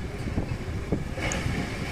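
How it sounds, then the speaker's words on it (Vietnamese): A wooden Binh Dinh fishing boat docking at the Vung Tau fish port, its low engine rumble and churning water mixed with gusty wind buffeting the microphone, steady and fairly close with no voices. "Ghe này đang cập vào cảng cá Vũng Tàu để bốc cá."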